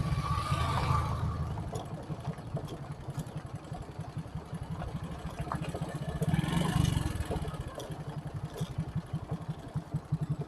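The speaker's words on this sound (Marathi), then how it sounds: "समोरून एक बाईक आलेली आहे" A motorbike coming head-on along a rough, broken road: a mid-pitched engine drone that swells as it nears and then eases, heard over the rumble of the recording vehicle.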